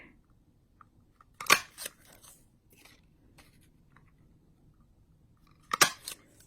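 Scissors cut paper for a Christmas card, with two short crisp snipping bursts several seconds apart and quiet faint handling sounds in between.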